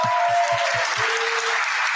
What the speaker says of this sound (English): a huge round of applause to him as well